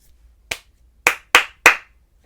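Four sharp hand claps in a short rhythm for a children's music lesson on rhythm reading, one single clap followed by a quick group of three, close and clear over a quiet room.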